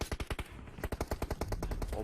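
Rapid automatic gunfire in PUBG Mobile, a fast string of sharp shots in several bursts over about two seconds, loud and close, with no voice over it.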